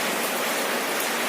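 Steady rain falls outdoors, a dense even hiss of drops on surfaces with no breaks, moderately loud and heard alone without any voices.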